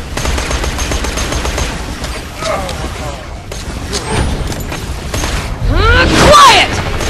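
Borderlands 2 gunfire: bursts of shots and booms scattered across the stretch, loudest near the end, with in-game voices talking over the shooting.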